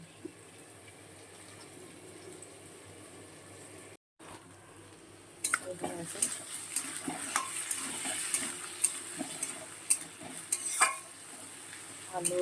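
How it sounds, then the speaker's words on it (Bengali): Potatoes, tomatoes and onions sizzling and being stirred in a pan, starting quiet and then turning into steady frying hiss with repeated scraping stir strokes, close and fairly loud. "আলু, টমেটো, পেঁয়াজ সবটাই কিন্তু ভাজা হয়ে গেছে, সুন্দর করে ভেজে নিয়েছি।"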